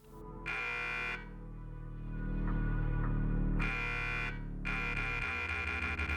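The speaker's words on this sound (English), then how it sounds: "the basketball buzzer, horn for silver" A loud, harsh basketball buzzer horn from Call of Duty: Modern Warfare blares in three long bursts over a constant droning, synthetic game-like background, with no talking.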